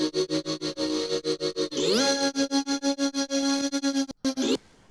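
Output's Exhale vocal synth plugin runs a preset as a fast, chopped vocal texture, with rhythmic gated pulses, a rising pitch sweep into a sustained tone, then more stuttering hits before cutting off abruptly.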